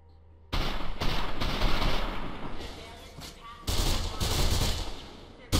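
Gunfire in the Mirror's Edge video game in a server room, with loud bursts of rapid shots starting abruptly and continuing in several clusters, separated by brief pauses, all close and dominant.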